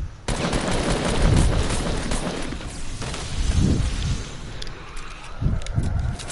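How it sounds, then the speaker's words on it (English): Dual pistols fire in a spooky Halloween-themed video game, bursts of rapid gunshots in several clusters with booming low thuds, loud and close, no talking over them. "That's me shooting."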